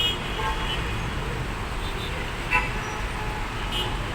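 Busy street traffic on Abu Qir Street in Alexandria, a steady roar of passing cars and vehicles with a short horn toot partway through, heard continuously from close by at the roadside.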